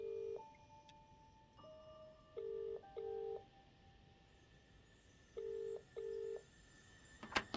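Cell phone keypad dialing tones in the video game Contradiction, six short beeps in an uneven sequence, clean and moderately loud over quiet background.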